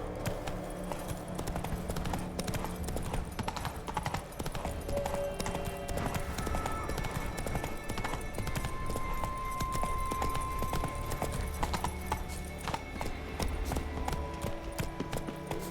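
Horse hooves pound in a steady, continuous gallop in The Witcher 3, loud and close throughout, layered over game music, with a faint whinny and a rider's shout mixed in.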